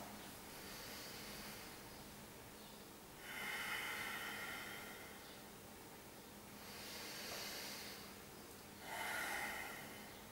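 Slow, deep breaths drawn through the nose as a demonstration, heard as three broad airy swells spaced a few seconds apart, close and fairly quiet, with no talking.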